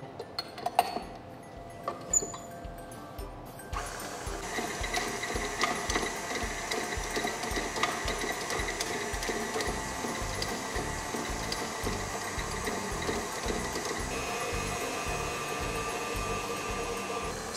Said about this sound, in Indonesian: Sekarang kita mixing.